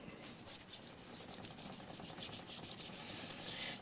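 Fine-grit sanding on a chipped ceramic plate gives a quick, rhythmic rubbing, short strokes repeating at a steady pace, close and fairly quiet.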